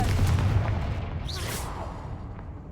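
A Confringo fire-blast spell cast in Hogwarts Legacy lands as a single booming burst with a crackling tail, over steady low game music and ambience.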